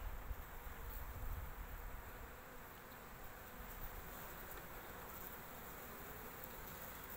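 Honey bees swarm around an open hive frame, a dense, steady buzzing drone heard close up but fairly quiet, with no talk.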